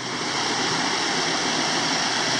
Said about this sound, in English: I was walking by the creek that I'm bushcrafting at